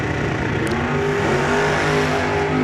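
Supercharged dragster at a drag strip, a loud continuous engine roar with strong harmonic lines, close and sustained across the brief moment without any talk.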